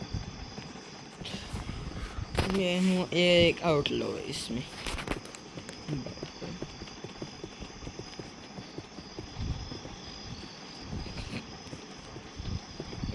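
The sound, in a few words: stolen horse hooves in Westbound video game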